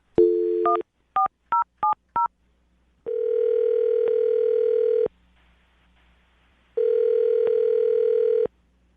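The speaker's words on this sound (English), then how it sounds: "I'm about to dial the phone number and get her on the phone" A short tone and four quick beeps of touch-tone telephone dialing, followed by two long, steady ringing tones separated by a pause.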